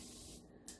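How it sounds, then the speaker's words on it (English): Water spraying in a steady hissing burst onto a painted wooden fall sign, close and fairly quiet, easing off partway then a brief sharper spurt near the end. "next what I want to do is spray this whole thing with water"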